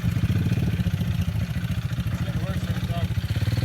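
Pit bike engine running steadily on a backyard dirt track, a continuous mid-pitched buzz with a rapid pulsing beat, fairly close and loud throughout.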